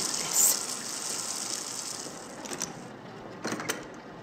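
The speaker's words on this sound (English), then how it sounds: "I'm leaving that water on." A water tap left running in The Mortuary Assistant horror game gushes as a continuous hissing flow, with a few faint clicks and knocks over it.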